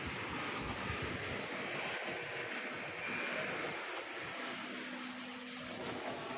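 Engine of a 2015 Toyota Yaris, overdue for an oil change with burnt oil, idles in a steady low drone with a faint constant hum, close by and with no talking.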